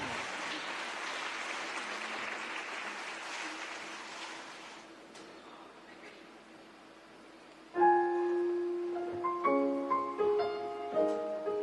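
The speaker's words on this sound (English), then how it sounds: "give a big round of applause to Vegakören and Sara Turesson" An audience at Malmö Arena gives a big round of applause as a steady, broad wash of clapping. It fades out and gives way to piano notes.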